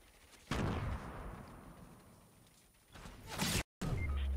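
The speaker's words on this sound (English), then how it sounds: "He sniped me." Sniper rifle fire in a video game: one sharp, loud crack that rings out and decays over a couple of seconds, then a second swelling blast cut off abruptly, with no talk.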